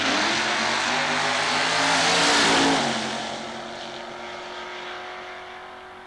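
A Super Gas 66 Chevy Nova drag car launches at Southeastern Dragway, its engine a loud roaring surge that swells to a peak and then fades as it pulls away down the strip.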